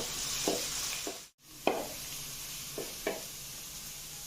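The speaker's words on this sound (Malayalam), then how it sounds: "മീഡിയം ഫ്ലെയിമിലിട്ട് വഴറ്റിയെടുക്കാം" Egg fried rice sautéing on a medium flame gives a steady close sizzle, broken by several sharp stirring scrapes of a spatula in the pan and one brief dropout of sound.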